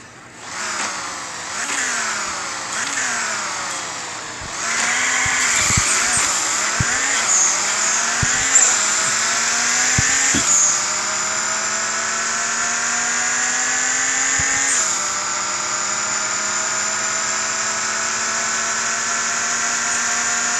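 An Audi in the racing game Nitro Nation launches and accelerates hard, its engine note climbing through a series of rising gear pulls with brief drops at each shift, loud and alone for about twenty seconds.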